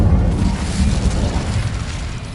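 An Incendio fire spell from Hogwarts Legacy erupts in a loud, sustained roaring blast, a dense rumbling burst of flame that fills the moment without voices.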